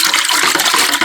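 Water dumped out of a mead-making jug, a loud, close, continuous splashing gush that lasts about a second.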